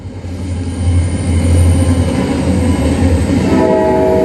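Train sound effect played during a high school stage production of the Footloose musical: a loud, steady rumble of rolling rail cars with a low droning horn, continuous throughout and without any talk.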